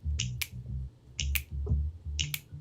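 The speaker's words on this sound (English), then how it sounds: "And can you snap your fingers?" Fingers snap three times, crisp and close, in an even rhythm with pauses between them. A low background hum sits underneath and no one speaks.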